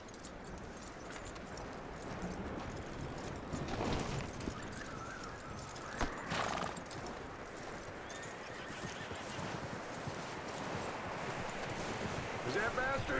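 Horse hooves clip-clop steadily through a video game's Western setting, with occasional whinnies and neighs mixed in, moderately near against a constant ambient background.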